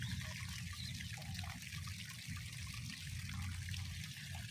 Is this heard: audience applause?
no